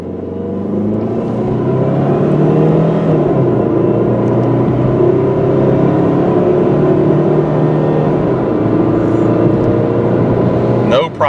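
A white 2002 Chrysler PT Cruiser Touring accelerating on the road, a loud, steady engine drone rising in pitch heard from inside the car, with a brief sound near the end.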